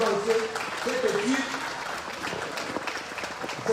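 An audience applauds at a presentation in Madrid promoting the Democratic Republic of the Congo, a steady wash of clapping that fills the whole stretch beneath a speaking voice.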